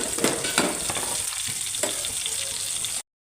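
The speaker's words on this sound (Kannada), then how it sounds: "ಬೆಳ್ಳುಳ್ಳಿ ಕಾಯಿ ಮೆಣಸು ಫ್ರೈ ಆಗ್ತಿದ್ದಂಗೆ" Garlic and green chillies fry in a pan with a steady, close sizzle and a few stirring scrapes, then the sound cuts off abruptly.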